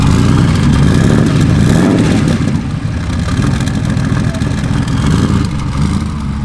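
A modified Porsche 911 SC with a launch-control turbo setup runs steadily in a garage, its engine a loud, continuous low rumble that eases slightly partway through without fully dropping off.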